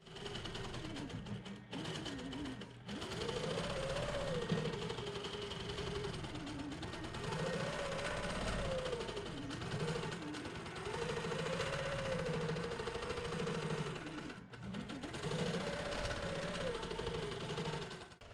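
A longarm quilting machine stitching a pearl chain in free-motion work, giving a steady mechanical whir with a rhythmic rising and falling pitch and a few brief pauses, close and without talk.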